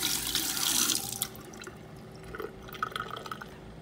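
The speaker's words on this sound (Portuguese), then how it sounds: "agora venho na água e passo na água para limpar" Tap water runs steadily over raw octopus being rinsed clean in a kitchen sink, with a louder splashing burst at first, then a quieter trickle and scattered drips.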